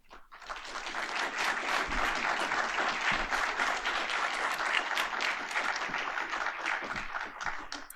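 Warm audience applause at a public lecture for ecologist Monica Turner, swelling quickly into a dense, steady wash of clapping from many hands before tapering at the end.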